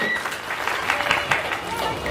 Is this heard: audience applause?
yes